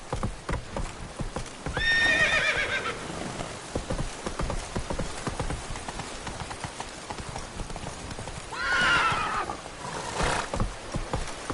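Geralt's horse Roach in The Witcher 3: Wild Hunt gallops with steady, rapid hoofbeats, and two loud neighs ring out over the running, one early and one near the end.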